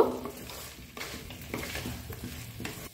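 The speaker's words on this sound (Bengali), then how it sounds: "এটাকেও সব কিছুর সাথে মিশিয়ে আবারও একবার কষিয়ে নেব।" A spoon stirs rice, cashews and raisins into spiced vegetables in a pan, giving a soft sizzling fry and a few scraping strokes with light clinks against the metal, close by and without talk.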